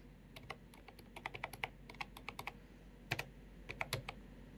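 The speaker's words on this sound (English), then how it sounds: "type from the keyboard" Keys clatter on a keyboard hooked up to a Motopad 60 Neo tablet, with quick bursts of close, crisp clicks separated by short pauses and no talking.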